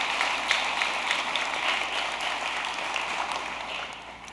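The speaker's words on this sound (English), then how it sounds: "I'd like a round of applause for Ms. De Jesus and for the rest of the world languages teachers" An audience claps for world language teachers at an annual National Honor Society induction ceremony, a broad, even wash of applause that holds steady and fades slightly at the end.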